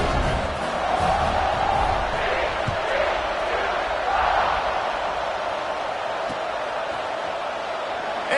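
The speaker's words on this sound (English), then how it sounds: "this crowd is feeling themselves after that last drive" Football stadium crowd roaring during a fourth-quarter kickoff in a college game, Frogs against Sooners, a broad continuous wash of cheering and shouts that holds loud and steady throughout with no clear talk on top.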